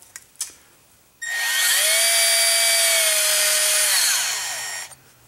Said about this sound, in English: Got the brake hone on a drill.